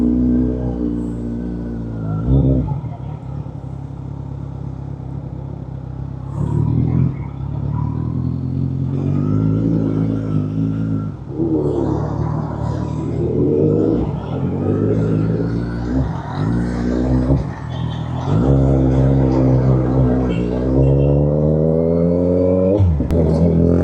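A Kawasaki Ninja 1000 sport-touring motorcycle carrying a passenger rides through city streets, its engine humming steadily with repeated rises and falls in revs as it shifts and accelerates, loud and close throughout.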